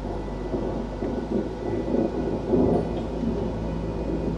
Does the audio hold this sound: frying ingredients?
no